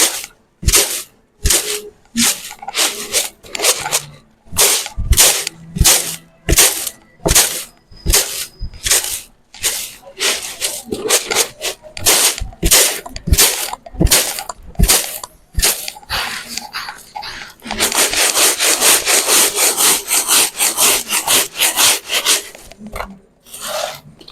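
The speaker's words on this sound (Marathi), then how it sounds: "चाळल्याच्या नंतर आपल्याला ही अशी पाकडून घ्यायची." Homegrown chana dal is shaken and sifted by hand, making rapid, rhythmic scraping and rustling strokes close by. The strokes become a denser continuous rasping toward the end, with no talking.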